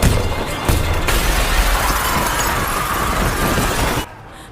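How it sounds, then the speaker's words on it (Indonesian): A station door smashes and collapses in the film Train to Busan, a loud sustained crash of shattering glass and debris lasting several seconds before cutting off abruptly. "pintu stasiun pecah dan ambrol"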